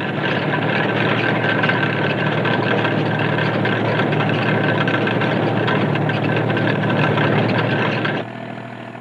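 A Standen Cyclone sugar beet harvester in the Fens runs with a steady, loud engine drone and mechanical rumble, continuous and close, cutting off near the end.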